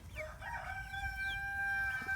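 An Icelandic rooster crows in a few drawn-out, strained calls, fairly clear against a low rumble of background noise, with no one talking.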